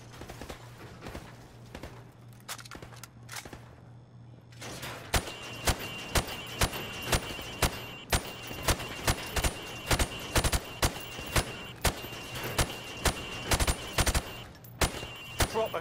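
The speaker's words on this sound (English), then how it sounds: "I want you to shoot the targets through the wood." Rifle gunfire at pop-up targets in Modern Warfare Remastered: after a few scattered early shots, a rapid series of sharp, evenly spaced single shots rings out close and loud, one after another.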